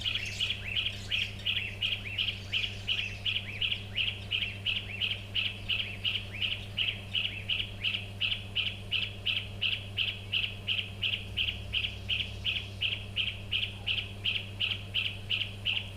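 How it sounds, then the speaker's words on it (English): A bird at a waterhole repeats a steady, pulsing call through the whole stretch, each note evenly spaced and fairly close, set over a constant low hum. "That's one of my birds making that noise."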